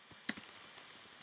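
Someone types quickly on a computer keyboard in a few close, crisp keystroke clicks, one louder tap followed by several softer ones in a quiet room.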